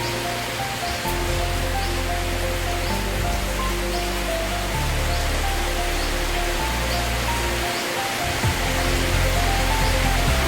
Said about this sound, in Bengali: জোরে নামলো বৃষ্টিটা।